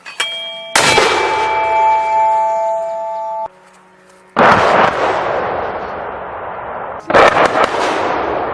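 A naval gun fires with a loud, close blast followed by ringing metallic tones, then a second heavy report after a short gap, each decaying into a broad roar.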